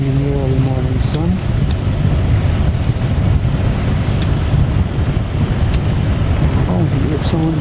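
A sailboat motor sails under its mainsail along the Moray coast near Hopeman. A steady low engine drone runs beneath constant wind buffeting the microphone and the wash of waves, loud and unbroken throughout.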